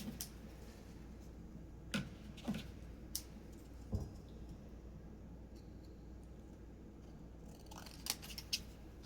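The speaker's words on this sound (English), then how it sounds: "I'm going to cut out this part." Scissors snip paper for a handmade light-up greeting card, a handful of crisp, close cuts spaced irregularly with quiet pauses between them and no talking.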